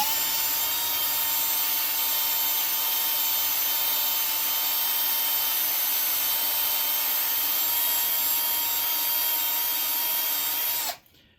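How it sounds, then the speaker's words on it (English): A k24/k20 engine valve is scrubbed with a Scotch-Brite pad on a spinning tool, giving a loud, steady high-pitched whine that holds for about eleven seconds before cutting off abruptly. "we're just going to work on this valve a little bit more with the Scotch-Brite and we'll see what we can come up with"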